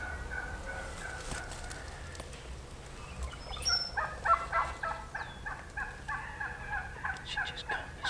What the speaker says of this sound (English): Them hens was going crazy.